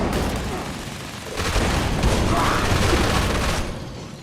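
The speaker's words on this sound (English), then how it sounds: "perhaps we might notice more explosions" Dense, continuous rumbling bursts of gunfire and explosions triggered by weapon procs in a video game, loud and sustained throughout with no clear gaps.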